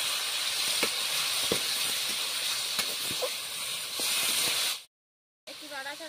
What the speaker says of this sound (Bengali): গরম হয়ে গেছে, তেলের মধ্যে দিয়ে দিচ্ছি এই যে কুঁদরি আলু